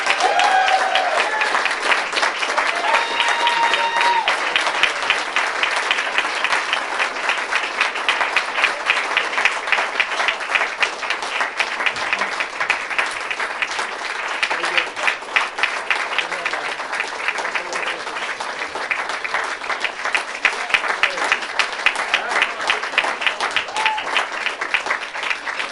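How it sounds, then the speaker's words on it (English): Sustained applause from a standing audience at a college radio station banquet's hall of fame induction, a dense, even patter of many hands clapping that continues steadily and fairly loud throughout, with no talk over it. "please stand and give a major market radio round of applause to"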